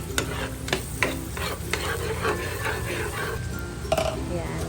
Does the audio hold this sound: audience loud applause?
no